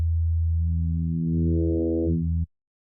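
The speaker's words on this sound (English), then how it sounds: "if we take the other sine wave on oscillator B and start turning it up" FM synthesis in Ableton Operator, as a second sine oscillator is turned up: a steady, loud, pure low tone gains new harmonics that swell in the middle, then cuts off abruptly.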